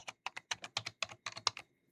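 Typing on a computer keyboard, a quick run of about a dozen close, distinct key taps with short gaps, then a pause.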